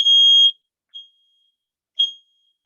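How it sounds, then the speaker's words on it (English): A fire alarm goes off indoors during a morning workshop session: a loud, piercing electronic tone for half a second, then two shorter repeated bleeps about a second apart, with nothing else in the background. "it sounded like a fire alarm"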